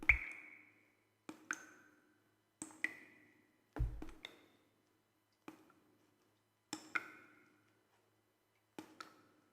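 Water dripping in a quiet space, a series of about eight separate plinks and plops spaced irregularly over several seconds, each with a short ringing tail, fairly close and distinct against near silence.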